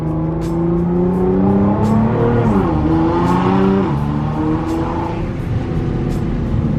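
A Nissan GTR's engine running while the car drives, a steady loud drone whose pitch rises and dips with the throttle, heard up close without talking.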